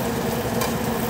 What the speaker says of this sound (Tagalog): Tingnan nyo, guys, prito.